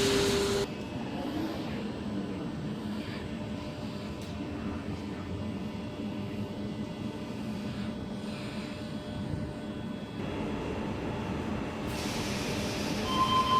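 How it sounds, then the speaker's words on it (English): A Sydney suburban passenger train waits at a station platform on a Hornsby via Macquarie University service, giving a steady low rumble and hiss with brief higher tones at start and end, heard without talk. "T126 and friend now departing platform number 3"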